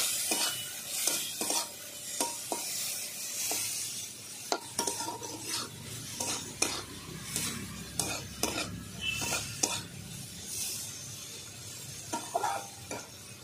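A pan-fry with turmeric powder and salt crackles steadily while a spatula stirs and scrapes against the pan in frequent sharp strokes, close and fairly quiet, with no talking.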